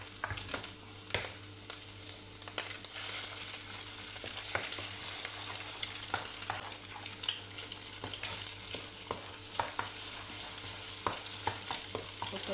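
Eggs for chao fan, a Chinese fried rice, sizzle steadily in a hot pan while a spatula stirs and scrapes them, frequent sharp clicks over the constant frying hiss, close and alone.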